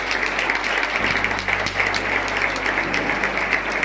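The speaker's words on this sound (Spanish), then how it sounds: "Un fuerte aplauso para Cata," An audience applauds at a school graduation ceremony, with sustained, even clapping that has a low steady hum underneath and stays at a constant level throughout.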